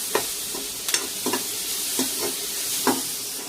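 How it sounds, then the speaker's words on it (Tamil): Tomato, green chilli and garlic sautéing in a pan, a steady sizzle under repeated scraping stirs of a spoon, close and moderately loud. "டொமேட்டோ லைட்டாக சாட்டே ஆனால் போதும் எனக்கு."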